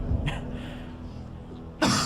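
A single short cough, a throat-clearing signal given during a game show when the correct answer was read out. It comes near the end after a quiet stretch of room tone.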